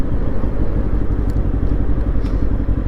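A motorcycle being ridden, heard as a loud, continuous low engine rumble with wind buffeting and rattle, steady and close throughout.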